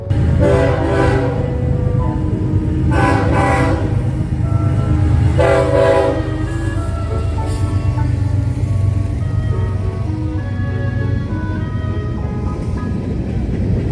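An eastbound freight manifest train made up entirely of Jevo locomotives rolls past with a loud, continuous low rumble of engines and wheels, while its horn sounds in three repeated blasts early on before the steady roar carries on alone.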